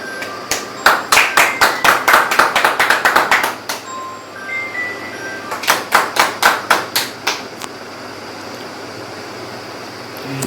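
An audience at a hospitality workshop applauds in two bursts of brisk, loud clapping, separated by a brief lull with a few scattered claps.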